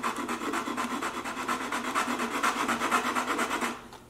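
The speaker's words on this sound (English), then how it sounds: "I'll roll it back and forth with a piece of sandpaper" Violin bridge feet are rolled back and forth on sandpaper, giving a close, steady rhythmic rasping of wood on abrasive that stops abruptly at the end.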